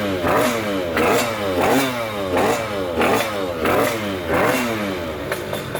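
A motorcycle fitted with a Stage 6 carburetor warms up close by, its engine rising and falling in repeated revs roughly every second, with a rough, clattering note between blips.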